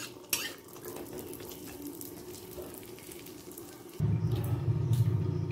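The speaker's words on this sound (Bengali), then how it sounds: "প্রথমে ভেজে নেব কাজু" Cashews fry in oil in a pan for a vegetarian dalia khichuri, giving a steady close sizzle with light utensil clinks that turns louder and denser after about four seconds.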